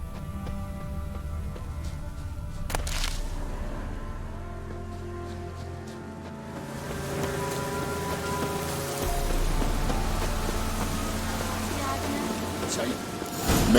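Steady rain falls in The Witcher 3: Wild Hunt, a continuous patter on surfaces with low rumbling underneath, holding at an even level throughout while game music or voices sit faintly in the background.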